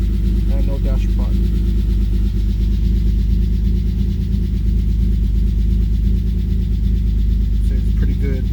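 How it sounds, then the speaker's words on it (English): Cold-started 1994 Mitsubishi 3000GT VR-4 with a 20T build idling at about 1,000 RPM, a loud, steady, low rumble close by, with a voice briefly heard over it. "So it's pretty good cold start."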